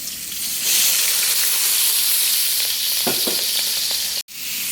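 Garlic and shrimp hit hot oil in a smoking wok, bursting into a loud, steady sizzle close by that continues with light stirring clatter before a brief cut at the end.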